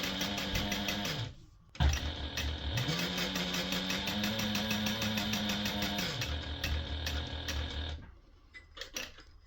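A sewing machine stitches through stiff vinyl for a binder cover, a fast steady mechanical whir and rattle running in long continuous passes, stopping briefly near the start and again near the end.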